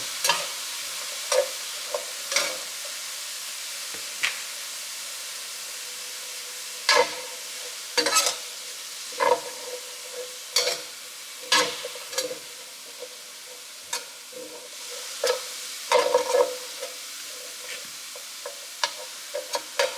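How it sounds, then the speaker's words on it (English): Bacon and sausage fond being scraped from a skillet as it is deglazed, with repeated loud scraping strokes of a utensil over a steady, soft sizzle, no voices. "all that fond at the bottom, we're going to wind up removing as we deglaze the skillet"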